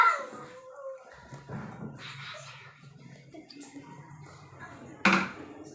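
A dog whimpers and gives soft yips and a bark, close and fairly quiet, with small whining tones scattered across the moment and a sharper burst near the end.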